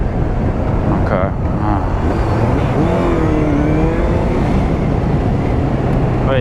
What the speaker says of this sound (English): you can see the acceleration on this bike is insane